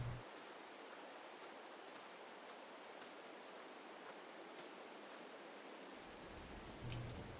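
Steady, even hiss of rain falling continuously in the video game Farming Simulator 22, a soft broadband wash with no voices or other distinct sounds.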